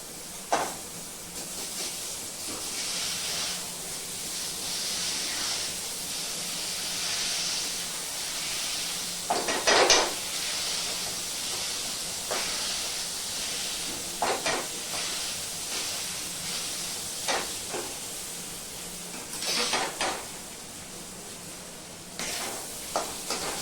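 Spices and potato go into a hot pan for aloo paratha filling, giving a continuous hissing sizzle that swells in bursts as the mix is stirred, with occasional scraping clinks, close up and without talk.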